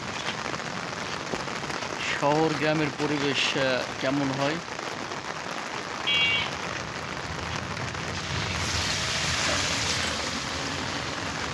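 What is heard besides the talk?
rain falling in a Bengal village at midday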